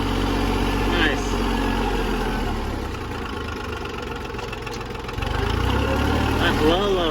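A John Deere 750 tractor engine runs steadily in low range at a creeping gear, a constant close-up idle-like drone with people talking over it.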